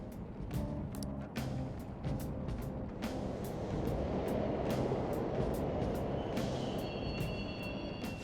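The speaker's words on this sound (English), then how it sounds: "The trains are totally running!" A subway train in the video game Persona 5 Royal rumbles steadily past with a rhythmic clatter of wheels over rail joints and a faint high squeal near the end, no voices.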